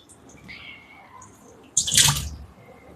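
Raw prawns being washed by hand as water is poured over them in a vessel, a brief loud splashing gush after quieter handling sounds.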